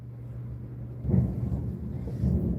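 Low, rolling thunder of an approaching storm rumbles continuously, swelling twice as it grows louder, heard alone at a distance.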